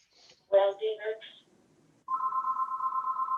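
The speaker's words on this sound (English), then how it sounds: "No, that's my phone." A mobile phone rings during a virtual planning board meeting, first in a short burst of bright electronic chirps, then a steady warbling ringtone that carries on loud and close after a brief spoken remark.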